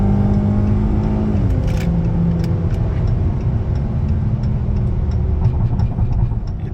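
A 2024 Dodge Charger with a 3.6 V6 at full throttle produces a loud, steady engine drone heard from inside the cabin, rising gradually in pitch through the gears, with no voices.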